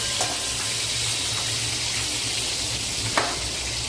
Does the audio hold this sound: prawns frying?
yes